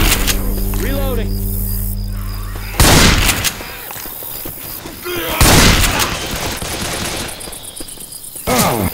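Gunfire in Left 4 Dead 2 rattles in loud bursts and sustained volleys, broken by quieter stretches of game sound effects.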